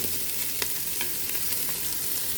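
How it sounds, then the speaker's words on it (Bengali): Ginger, garlic and onion stirred and fried in a pan for fried rice: a dense, continuous close sizzle with a few soft spatula scrapes, no talking. "এখন এভাবে ভালোভাবে ভাজা ভাজা করে দিতে হবে।"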